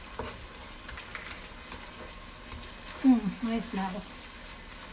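Tomato puree for chili con carne sizzles steadily in a hot pan, a low continuous frying hiss with a short stir, and a voice briefly speaks over it.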